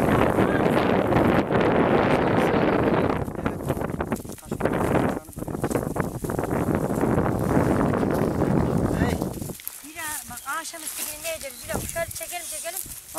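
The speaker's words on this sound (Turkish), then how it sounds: "Evet, rüzgar çıktı arkadaşlar ha." Strong wind buffeting the microphone outdoors during a garlic harvest in a field, a loud continuous rushing roar that drops away near the end as people talk.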